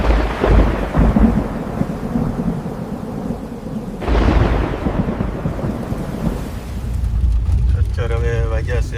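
Heavy, continuous monsoon rain pours down in Surat with rumbling thunder, a loud, dense roar swelling in waves with a sharp burst midway, and a voice briefly heard near the end.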